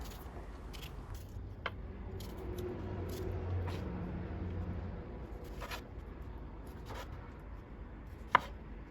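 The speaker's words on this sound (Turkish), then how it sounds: "Evet domateslerimi doğramaya devam ediyorum." Sparse knife strikes chopping tomatoes on a cutting board, a few sharp taps spaced irregularly over a low steady background hum, with one louder crisp chop near the end.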